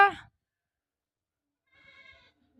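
A short bleat opens, then silence, and a second thin, wavering bleat comes from farther off.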